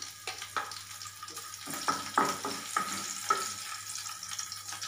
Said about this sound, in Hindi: तेल गरम हो गया है, अब इसमें मैं हरा मिर्च डाल रही हूँ।